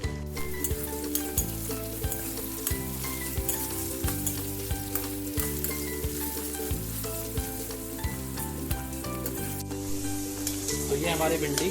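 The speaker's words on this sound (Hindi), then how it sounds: "तो भिंडी को हम शैडो फ्राई करेंगे।" Cut okra (bhindi) shallow-fries in hot oil, giving a steady, loud sizzle with crackles all the way through, and background music plays underneath.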